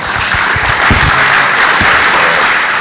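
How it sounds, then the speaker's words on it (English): Conference audience at a general session applauding steadily, a dense wash of many hands clapping throughout, fairly loud and continuous with no talking over it. "Even though he's not here, I guess we should probably still applaud"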